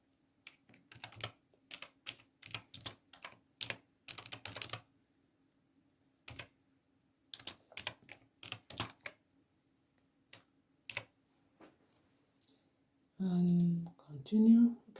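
Computer keyboard typed on in short bursts of quick clicking keystrokes, close and fairly quiet, with pauses between bursts and a voice speaking near the end.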